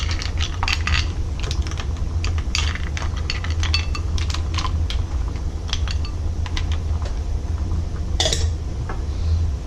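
About half a pound of mussels tumble into a seafood kimchi-jjigae pot, their shells knocking in a scatter of sharp clicks and clinks over a steady low hum.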